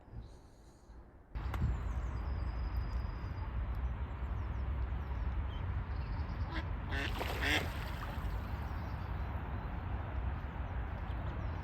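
A duck quacks at a lakeside mere during a fishing trip, a few close calls ringing out over a steady wind-like outdoor background.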